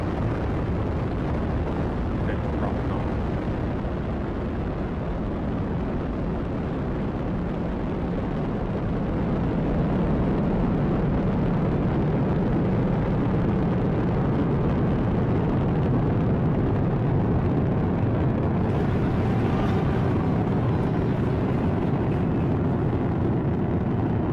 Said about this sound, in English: Ignition, liftoff. Vehicle is pitching downrange.